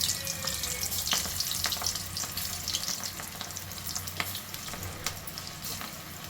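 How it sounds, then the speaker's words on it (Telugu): Cauliflower pieces for gobi 65 fry in hot oil, giving a steady, close sizzle with bubbling crackles and occasional stirring scrapes, and no voices. "సో ఇదండి, ఫ్రై అవుతున్నాయి"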